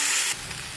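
Taro stolons frying with garlic, turmeric and salt in a hot pan, a steady close sizzle that drops to a softer, quieter hiss partway through.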